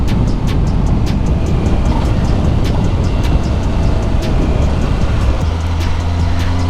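Steady, loud engine and road drone of a car being driven, continuous and close throughout with no talk over it.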